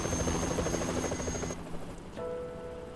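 Helicopter in the video game Yakuza 3, a loud continuous rotor thump and engine whine that cuts off midway, leaving a quieter tonal drone.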